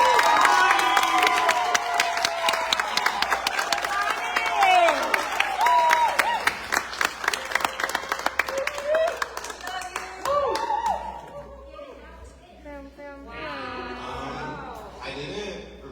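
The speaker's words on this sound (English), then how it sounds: "We're going to clap it up for the poet." Audience at a poetry reading launch event claps and cheers for a poet, a dense wave of applause with whoops that thins and fades into scattered claps and voices toward the end.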